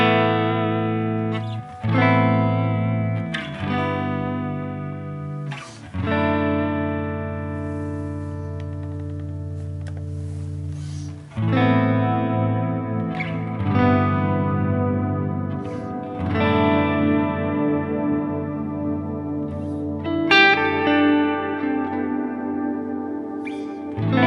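Electric guitar played clean through a Line 6 Helix Ventoux amp model with drive set low and presence raised, a run of ringing chords and notes that sustain and decay with chorus and echo, loud and alone.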